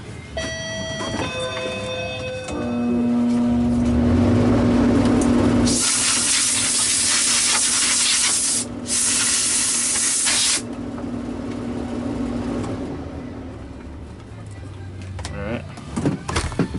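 An aerosol spray blasts into the motor of an Oreck Magnesium upright vacuum cleaner, a loud hissing burst lasting several seconds, with a short break, over a running motor hum and intermittent talk.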